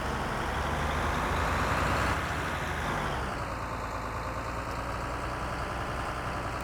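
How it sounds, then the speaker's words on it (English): A tractor engine running in Farming Simulator 2013, a steady low mechanical drone with a slight rise and fall in pitch, close and continuous with no talking. "it's a fun tractor to drive"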